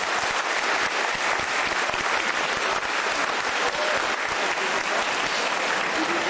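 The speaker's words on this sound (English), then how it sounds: "let's all again give a very loud round of applause" Loud, sustained applause from a crowd of newly sworn architecture graduates at an oath-taking ceremony, a dense, unbroken roar of many clapping hands filling the hall.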